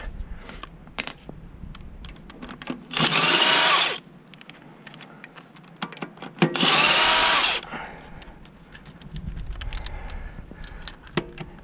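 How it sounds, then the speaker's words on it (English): An impact wrench zips off spline wheel lug nuts in two loud, steady bursts of about a second each. Quieter clicking and handling noises come from the car between and around them. "is safely come in with the impact and just zip them off real quick."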